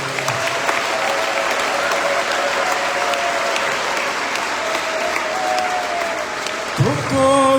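A congregation at a Catholic Sunday mass breaks into sustained applause, a dense roomy clapping that continues evenly throughout before a voice briefly sounds at the end.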